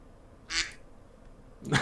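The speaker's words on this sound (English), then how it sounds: "We're greeted by a duck noise." Two short, nasal duck quacks played as a sound effect in an online racing interview room, one near the start and one at the end, separated by quiet.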